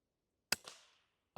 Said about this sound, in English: Actually going to try to shoot one through the hanger.